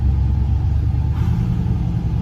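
A car engine roars at a steady, heavy drone, loud and close, holding high revs throughout with deep rumbling.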